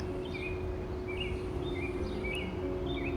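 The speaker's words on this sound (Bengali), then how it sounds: "এই জায়গাটা দেখুন কি নিস্তব্ধ শুধু পাখির ডাক" Birds call in a quiet outdoor spot in America, with faint, repeated short chirps scattered over a steady low hum and soft background noise.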